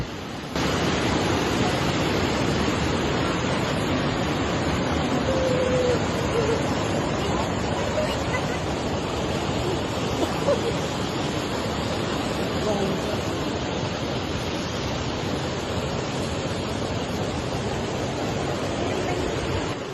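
Flood water from the overflowing Rejoso river surging through homes and rice fields in Pasuruan, East Java: a steady, dense roaring rush that stays loud and unbroken throughout, with a faint hubbub of voices beneath.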